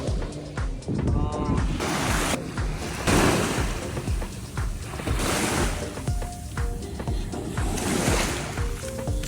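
Sea waves at night, surging and breaking in broad repeated washes that stay loud and close through the whole stretch, with wind noise and voices talking over the surf at times.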